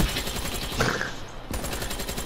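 Shotgun fire in Call of Duty: Black Ops III: a rapid string of loud, close blasts runs straight through, with a brief heavy boom partway through.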